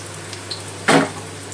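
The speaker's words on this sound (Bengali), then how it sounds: "বড়াটার এক দিকটা লাল করে ভাজা গেছে" Red lentil fritters frying in a pan of oil give a single brief, loud sizzling burst over a low, steady background hum.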